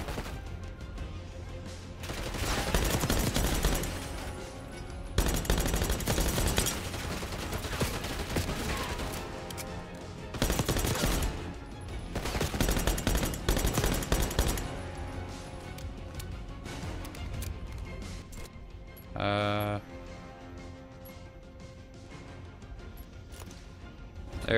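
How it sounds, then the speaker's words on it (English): Rapid automatic pistol fire in the Black Ops 6 campaign, loud and close, coming in repeated dense bursts with brief pauses between them and a sharp burst of impacts near the end. "Ooh, I actually like this pistol. The auto pistol."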